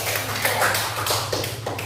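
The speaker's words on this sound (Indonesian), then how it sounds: "silakan kita beri tepuk tangan untuk kelompok 3" Classroom of students clapping for a presenting group, a steady close patter of many hands applauding briefly without talk.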